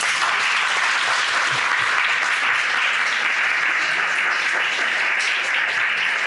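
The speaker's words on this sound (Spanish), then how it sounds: "Les pido un aplauso, por favor." A crowd applauds steadily, dense clapping holding at an even, loud level throughout with no talk over it.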